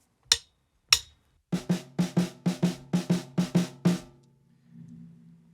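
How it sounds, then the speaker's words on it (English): Snare drum alone at a drum clinic, two isolated hits followed by a quick run of about ten crisp, evenly spaced strokes, close and dry, ending in a faint low ring. "that's a rhythm that's played only by the snare drum"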